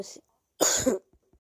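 A person with a cold coughs twice, with a short burst early and a louder, fuller cough in the middle, then a couple of faint throat sounds. No one talks, and a quiet background sits between the coughs.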